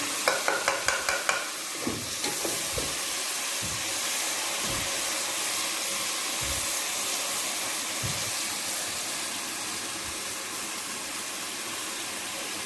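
Ginger garlic paste fries in a pan for biryani with a steady, close sizzle. Quick clicks open the sequence, and stirring thumps recur beneath the hiss.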